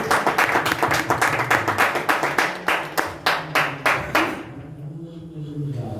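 A worship congregation at a church prayer meeting in Kuwait claps hands in a steady, rhythmic beat for about four seconds, loud and close, then the clapping stops and faint voices and room sound remain.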